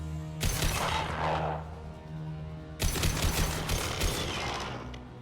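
Video game gunfire comes in two sustained bursts of rapid, crackling shots, the first about two seconds long and the second about two and a half seconds, loud and dense over a low steady background drone.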